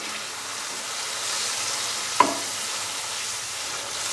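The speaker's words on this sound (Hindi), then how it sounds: "चिकन की भुनाई कर लेंगे अदरक और लहसुन के पेस्ट के साथ तकरीबन 5 से 7 मिनट के लिए" Chicken being fried and stirred in a pan with ginger, garlic and green chili paste, giving a steady soft sizzle with one sharp clack of a utensil midway.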